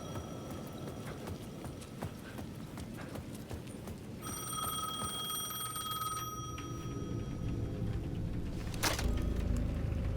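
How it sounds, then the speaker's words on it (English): A payphone at the edge of a plaza in the video game Alan Wake II rings in bright, repeated bell-like bursts over a muffled, clattering background, with no voices. "The payphone at the edge of the plaza was ringing again."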